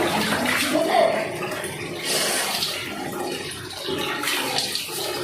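Running water poured or sprayed while rinsing shampoo from someone's hair, a loud, continuous splashing rush with shifting surges throughout.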